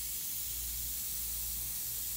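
India ink is sprayed lightly onto Bristol board, producing a soft, steady hiss of fine mist that runs through the whole clip with no speech.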